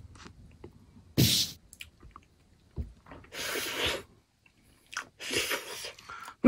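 Close, wet chewing and squishing of a squashed banana, several short bursts of mouth sounds separated by quiet gaps.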